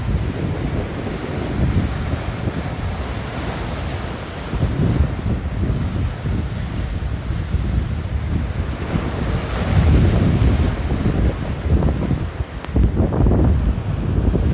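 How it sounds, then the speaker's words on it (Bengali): Mediterranean Sea waves washing and surging steadily off the Italian coast, mixed with strong gusting wind buffeting the microphone throughout, with no voices. "কত পরিমাণ ঢেউ। এই ঢেউয়ের মধ্যে মানুষ কেমনে বাঁচবে?"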